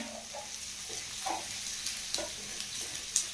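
Saag roasting in desi ghee in a pan with onions, a steady soft sizzle with occasional stirring scrapes, close and moderately quiet with no talk.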